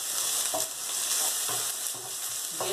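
Chopped onion, with garlic, sautés in a hot pan. A steady, bright sizzle runs throughout, broken by a few soft stirring scrapes, and no one speaks.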